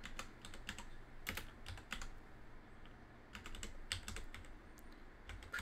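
Someone types on a computer keyboard, with clusters of crisp key clicks separated by brief pauses, close and fairly quiet over a low background hum.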